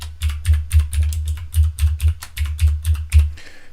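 Keys clatter on a computer keyboard as a password is typed, in quick irregular bursts of clicks, close and clear, with no talking.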